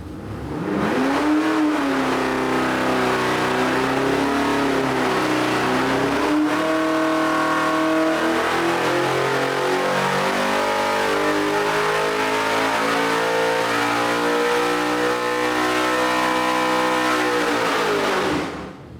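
A 404-cubic-inch LS3 stroker V8 on a dyno revs hard and climbs steadily under load for a long sustained pull, loud and close, then cuts off abruptly at the end.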